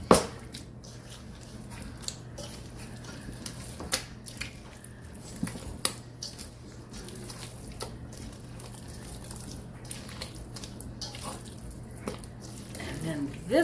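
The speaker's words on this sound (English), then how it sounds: "I'll just dump it on in there and start kneading." Sourdough dough kneaded by hand with salt and water worked in, giving repeated wet squishing and slapping sounds with small splashy drips, steady and close throughout.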